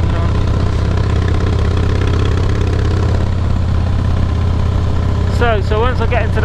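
Motorcycle engine running steadily while riding a mountain road near Mount Laguna, San Diego, a loud continuous low drone with wind rush, and someone talks over it toward the end.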